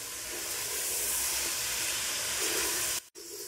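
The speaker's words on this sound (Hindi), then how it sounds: "खड़े मसाले डालने के बाद हमने 2 मिनट इसको भून लिया है।" Whole spices fry in oil in a pot for aloo gosht, a loud steady sizzle and hiss that cuts out briefly near the end.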